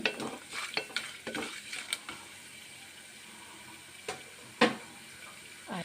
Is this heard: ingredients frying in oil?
yes